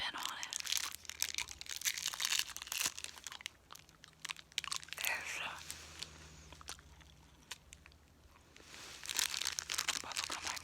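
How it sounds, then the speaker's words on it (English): Rainbow bubblegum being chewed close up, with crunchy, crinkly mouth sounds in irregular bursts, soft speech in between. "bubblegum I'm chewing tonight, by the way"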